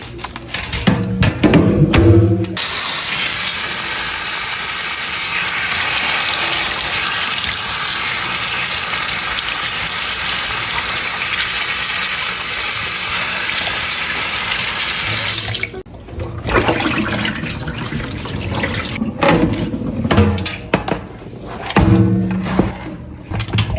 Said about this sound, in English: Now we're gonna go rinse this off lightly.